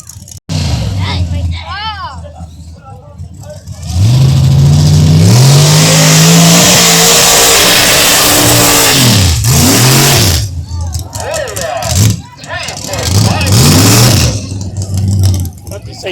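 A truck engine revving hard during a mud bog run at the Ingham County Fairgrounds, loud surging roars rising and falling with gear changes, crowd voices and talk over it.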